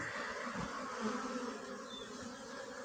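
Honeybees drone steadily around a hive affected by a brood disease, a dense continuous buzz close by with no voices.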